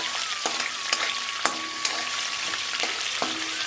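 Peanuts and green chillies frying in oil, a steady close sizzle broken by a handful of sharp spits and pops, with a faint steady tone running underneath.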